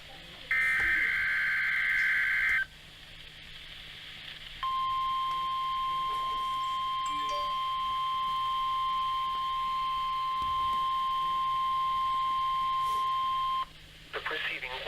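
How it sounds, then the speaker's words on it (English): A NOAA weather radio station runs a weekly Emergency Alert System test, beginning with a short, harsh burst of data tones. After a brief pause, a loud, steady single alarm tone holds for about nine seconds before cutting off. "The preceding was a test of NOAA weather radio station WXL 46's warning alarm systems."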